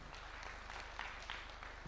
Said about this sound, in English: And let's just clap for them one more time.